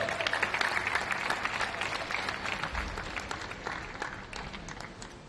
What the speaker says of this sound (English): one big final round of applause